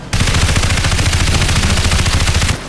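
Sustained automatic gunfire in the shooter game Crysis Remastered, a dense rapid burst of shots running loud and continuous for over two seconds before cutting off.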